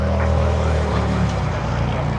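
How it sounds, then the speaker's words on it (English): A KLM airliner taking off at Los Angeles airport gives a loud, steady jet roar with a deep rumble that holds evenly throughout. "KLM 604 lifting off."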